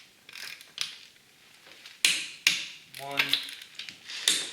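Ratchet clicks and metallic turning as lug nuts, starting with the locking lug, are loosened on a 2007-2017 Toyota Camry during a front brake job, several short bursts with a man counting aloud nearby.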